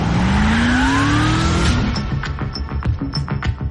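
A car drives hard with tires squealing in a rising whine over loud engine roar, then the squeal fades into choppy rumbling and scattered bumps, with no voices.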